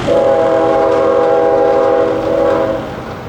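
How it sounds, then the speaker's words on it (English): Chord horn of a GE GEVO locomotive leading a mixed freight train, sounding one long, loud, steady blast that holds for nearly three seconds before cutting off. "In a couple of minutes, I was hearing the unmistakable chord of a GEVO horn"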